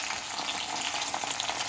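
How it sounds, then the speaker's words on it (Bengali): Cauliflower pakoras fry in hot oil, a close, steady crackling sizzle with small bubbling pops and no voices over it. "এই যে এখানে ভাজা শুরু হয়ে গিয়েছে অলরেডি"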